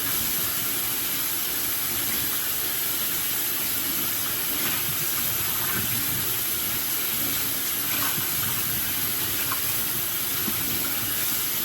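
Tap water runs steadily into a sink during dishwashing at home, a constant close hiss and splash that continues unbroken.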